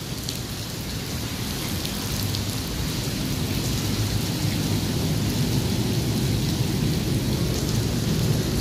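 Heavy rain pours steadily at night along the Pasig River Esplanade, a dense even hiss broken by low rumbles of thunder, loud and continuous with no talking.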